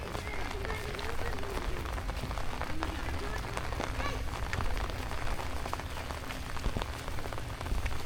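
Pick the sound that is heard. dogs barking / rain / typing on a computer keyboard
rain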